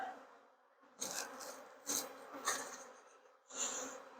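Honeybees hum softly at a horizontal hive, the faint buzzing swelling in several short bursts over a quiet background with no voices.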